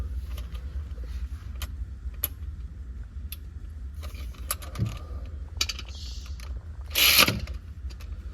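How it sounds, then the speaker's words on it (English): Metallic ratcheting and clicking as a socket wrench torques the oil drain plug under a 2020 Chevy Trax, soft scattered clicks with a louder jangling rattle near the end, no talking. "I will torque it just to see"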